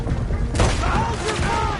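Video game battle gunfire: a sharp burst of shots breaks in partway through, followed by scattered firing and echoing booms, with shouting voices mixed in.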